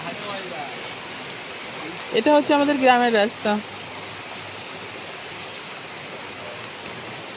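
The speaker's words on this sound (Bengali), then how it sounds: "আমাদের এখানে আজকে প্রচুর পরিমাণে বৃষ্টি হচ্ছে" Heavy rain falls on a village road as a steady, even hiss throughout, with someone speaking briefly over it partway through.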